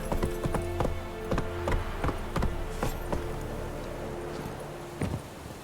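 Roach the horse gallops in The Witcher 3, hooves clip-clopping in a steady rapid rhythm at close range, with loud thuds standing out over a continuous game background.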